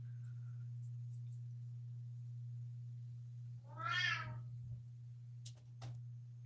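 A house cat gives one clear, fairly loud meow in a quiet room over a steady low electrical hum, with a few faint clicks afterward.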